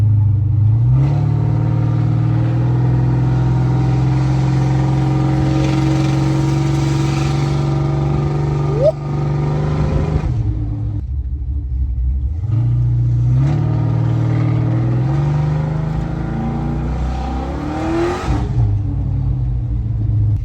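Chevy LS V8 fitted with an X pipe and Flowmaster exhaust, rumbling close by at idle with long revs, a sharp cut-off around the middle, then another rising rev burst, no speech.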